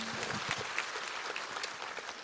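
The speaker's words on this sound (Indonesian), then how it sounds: "Berikan tepuk tangan kita untuk Tuhan kita." A church congregation claps together in a steady, moderately faint burst of applause, with scattered individual claps standing out from the crowd.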